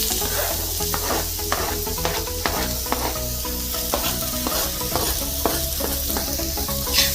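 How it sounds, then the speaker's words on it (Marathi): Chopped onion sizzles and crackles steadily in hot oil on a flat pan for Agri masala mutton, with occasional scraping and stirring sounds, close up and with no voices. "हा कांदा आपण चांगला परतवून घ्यायचा आहे, लाल होईल तोपर्यंत"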